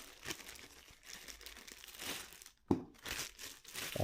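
A plastic bag is crumpled and crinkled close by in a quiet room, with bursts of crackling rustle, a brief pause, then more crinkling.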